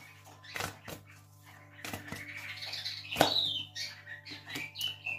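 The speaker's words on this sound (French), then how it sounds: "Il y a mon oiseau qui nous accompagne" A pet bird chirps indoors in a few short, bright calls scattered across a quiet room with a low steady hum, and some soft knocks and rustles nearby.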